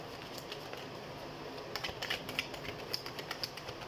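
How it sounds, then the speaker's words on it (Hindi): Tarot cards shuffled by hand indoors, a faint soft riffling with light papery flicks and taps spread over a few seconds, close and quiet with no talk. "तो सबसे पहले हम कार्ड शफल कर लेते हैं।"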